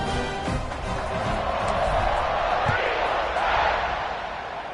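Stadium crowd noise in an American football video game, a steady broad roar swelling slightly through the kickoff return, loud and continuous with a commentator talking over it.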